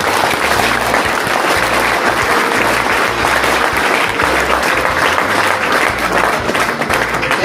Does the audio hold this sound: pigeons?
no